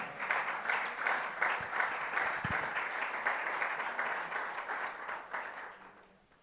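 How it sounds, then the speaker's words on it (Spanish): A church congregation at a religious gathering in Monte Hebron, Colombia, bursts into sustained applause, many hands clapping in a dense, even roar that fades out toward the end. "Dale un aplauso al Señor, amén."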